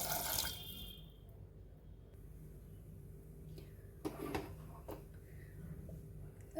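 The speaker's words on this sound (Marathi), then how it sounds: "एक एक दीड ग्लास पाणी घालूया" A short gush of water pours into a pot of carrot-tomato soup at the start, followed by quieter sloshing and a couple of light clinks.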